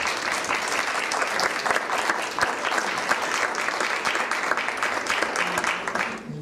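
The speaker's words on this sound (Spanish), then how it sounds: "para quien le pido un fuerte aplauso a todos ustedes" At an art-collecting conference, the audience gives the lecturer loud, dense applause, many hands clapping steadily and evenly for several seconds before easing off at the end.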